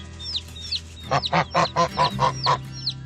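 Geese with goslings honk in a quick series of loud, close calls, with softer chirps from smaller birds scattered around them.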